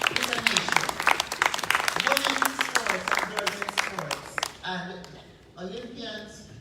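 A conference audience at a diaspora event claps while a speaker's amplified voice carries over it, the applause thick at first then thinning out toward the end as talk continues.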